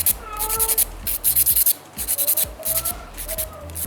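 A nail file rasps back and forth over acrylic fibre nails during square shaping, with rapid rhythmic scratching strokes in short bursts, close and fairly loud.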